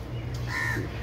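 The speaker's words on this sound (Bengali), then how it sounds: "দেখুন কি সুন্দর কাক ডাকছে" A crow gives a single harsh, nasal caw, fairly close, over a steady low background hum, at a lake at dawn.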